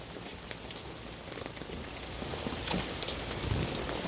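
Steady rain falls and patters on surfaces outdoors, a soft continuous hiss that grows slightly louder toward the end.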